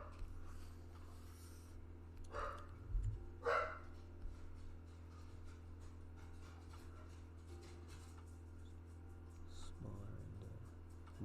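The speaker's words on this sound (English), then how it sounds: "Oh, here come the dogs." Dogs barking in the distance, a few brief faint barks in two quick bursts near the start and another near the end, over a quiet room hum.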